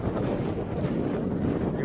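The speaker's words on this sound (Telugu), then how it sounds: "గాలి మళ్ళీ మొదలైంది." Wind sweeps across the desert of Death Valley, California, buffeting the microphone with a steady, dense, low rushing roar that stays close and fairly loud throughout, with no voices.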